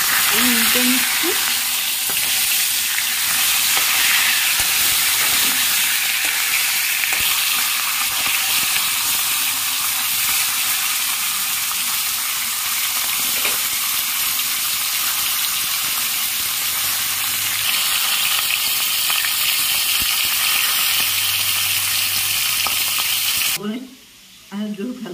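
Flipped fish sizzles in hot oil in a wok with a steady, close crackle that fades near the end, where a brief voice breaks in.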